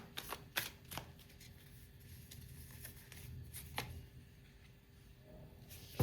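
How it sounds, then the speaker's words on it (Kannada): Tarot cards being shuffled and drawn, a few quick soft flicks and riffles near the start, then quieter card handling with a faint steady hum. "ಇದಕ್ಕೆ ಇಲ್ಲಿಂದ ಒಂದು ಕಾರ್ಡ್ ನೋಡೋಣ."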